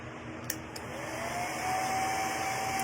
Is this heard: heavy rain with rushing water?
no